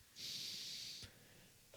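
A single slow, airy breath drawn through the nose during quiet seated meditation, soft and close, followed by a small click and the start of another faint breath.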